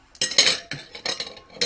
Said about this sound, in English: I'm going to move the knife and fork out of the way for a moment.